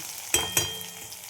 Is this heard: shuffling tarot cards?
no